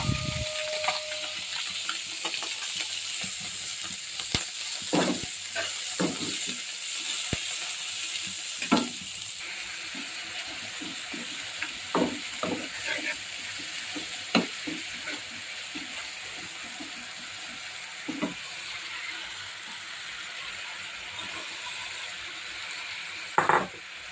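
Tengra fish fry in a pan outdoors, a continuous sizzle broken by scattered pops and clinks of a utensil against the pan, steady and close, with no voices.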